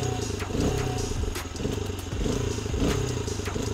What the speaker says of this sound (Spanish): desde acá encendemos la moto